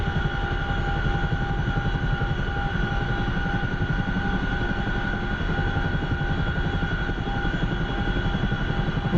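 Steady, continuous helicopter rotor and turbine drone from the DCS flight simulator game, loud and unbroken with a rhythmic low chop and constant tonal whine throughout.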